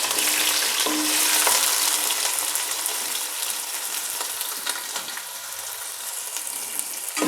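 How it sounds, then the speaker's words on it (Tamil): Onions frying in a pan, a steady close sizzle with faint crackles running throughout, no voices over it. "வெங்காயம் போட்டு பத்து நிமிஷம் வறுத்துக்கலாம்"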